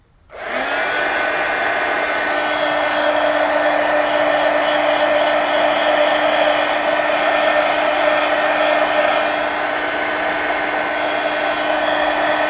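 A hair dryer blows over mixed media collage art cards, a loud, steady whirring roar with a constant whine that starts abruptly and runs unbroken throughout, with no voices.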